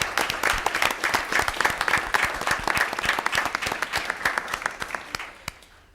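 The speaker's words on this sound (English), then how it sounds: "let's give them a round of applause." An audience at an event claps in a dense, sustained burst of applause that tapers off toward the end, with no talk over it.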